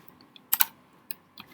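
A few quick keystrokes on a computer keyboard, two close clacks followed by a couple of lighter taps, close and crisp in an otherwise quiet room.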